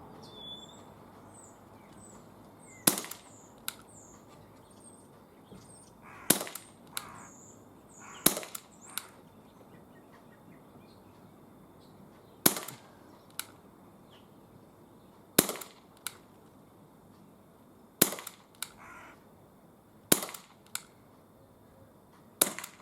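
An Umarex CPS CO2 pellet pistol fires outdoors, giving about eight sharp, loud cracks spaced a few seconds apart, each trailed by a faint smack, over quiet ambient background.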